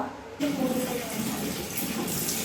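Water pours from a tap onto a scented flower gift toy, a steady close splashing stream that starts abruptly and continues evenly to the end.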